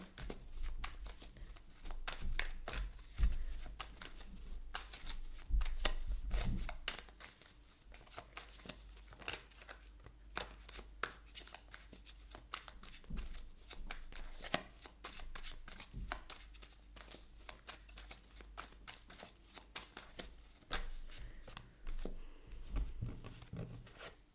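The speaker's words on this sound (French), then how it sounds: "On va aller rajouter quelques cartes." Tarot cards are shuffled and handled up close, giving repeated crisp riffles, flicks and light papery slaps in an uneven rhythm, fairly quiet and with no talking.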